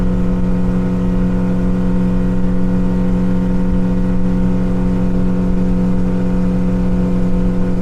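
A Honda 90 HP outboard on a Starcraft aluminum boat runs at around 5,500 RPM, giving a loud, steady, close engine drone with constant pitch and no talking.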